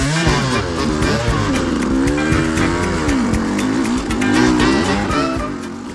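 A KTM 200 dirt bike at a hare scramble in the woods revs hard and continuously near the rider, its two-stroke engine rising and falling as it climbs over a log, loud throughout with no talk.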